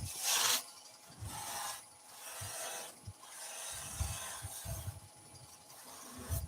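A buffing mop on a lathe spinning near 1400 rpm works resin and banksia apple stems, giving soft rubbing, rasping passes that come in short uneven bursts over a low mechanical hum.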